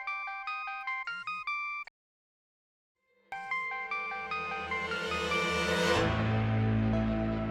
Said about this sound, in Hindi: वो मेरे बॉस का फोन है अंकल, मुझे चलना होगा